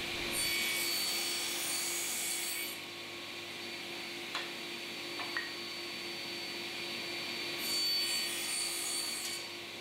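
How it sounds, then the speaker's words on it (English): Chisel working wood while squaring up grooves on the rails of a baby doll crib, a soft continuous scraping and rubbing with a few faint sharp ticks, close and quiet with no talk. "So I just have to square up the ends with a chisel"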